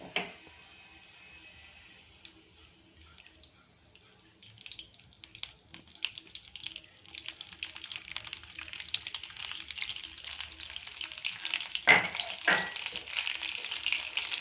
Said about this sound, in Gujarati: તેલ અને બટર આપણું થોડું ગરમ થાય ત્યારબાદ આપણે એમાં ઝીણું સમારેલું લસણ એડ કરીશું.